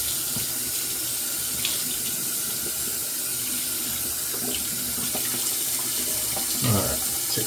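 A bathroom tap runs steadily into a sink as water is splashed onto the face before a wet shave, with a continuous close rush and some small splashes near the end.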